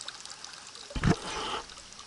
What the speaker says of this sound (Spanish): vamos a cerrar el grifo